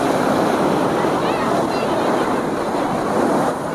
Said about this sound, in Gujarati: મોજા કેટલા આવે વેવ